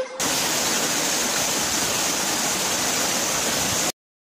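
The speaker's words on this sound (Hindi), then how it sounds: "ध से झरना" A waterfall's loud, dense, steady roar of rushing water, close and continuous for about four seconds before cutting off abruptly into silence.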